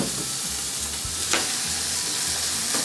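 Ground meat for a Thanksgiving dish being stirred and mixed in a hot pan, a loud continuous sizzle with scraping stirs and one brief sharper scrape.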